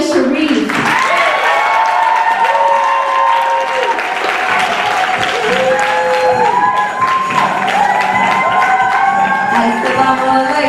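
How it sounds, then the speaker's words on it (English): Audience applause welcoming Aliyah Sharif onto the stage at a Hijabi Chronicles event, loud and sustained for about ten seconds, with cheering and tonal voices or music over the clapping. "Please give a round of applause."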